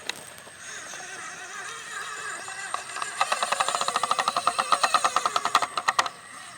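Small RC crawler truck on an SCX24 chassis with a noisy, struggling motor, giving a thin electric whine that builds into a rapid, rattling stutter of clicks; close and fairly quiet, with no talking.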